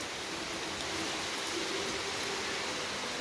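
Heavy storm rain pours down over a flooded street, a dense, steady hiss of falling water that stays loud and unbroken throughout, with no voices.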